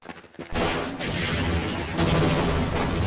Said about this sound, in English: The rockets follow your crosshair and blow up anything unfortunate enough to be hit by them.